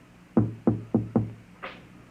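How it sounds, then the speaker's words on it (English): Four firm knocks on a wooden door land close and loud in an even rhythm, each ringing briefly before the next, followed by a short, fainter rustle. "And then there was a knock on the door."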